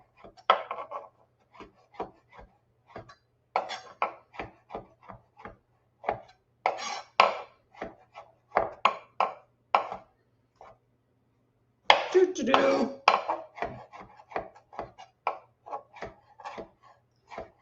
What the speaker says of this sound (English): I'm just going to keep chopping because I'm going to want all of these.